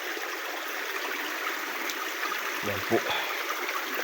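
A stream flows steadily beside a large bamboo grove along a steep rural path, a continuous broadband rush of water close by, with a brief spoken phrase near the end.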